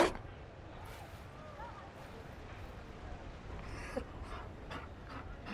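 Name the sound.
Mabari dog panting, from a video game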